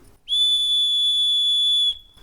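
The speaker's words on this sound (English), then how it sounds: "And if I use this whistle" A single steady whistle blast held for about a second and a half, loud and close, alone in a quiet room during a demonstration on physical side-channel attacks on PCs.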